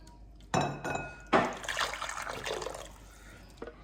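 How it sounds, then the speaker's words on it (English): Tonkotsu ramen soup is ladled into a preheated bowl in a few distinct pours, each a close splash followed by trickling liquid, with a short drip at the end. "I'm going to put about 300 mils of soup in"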